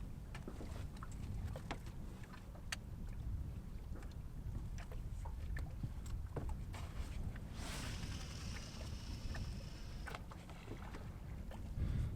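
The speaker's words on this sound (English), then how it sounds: "Starting to get windy now too." Steady wind rushes across the microphone with low rumbling buffeting during a winter catfish fishing outing, joined by scattered clicks and a brief hiss of water near the end.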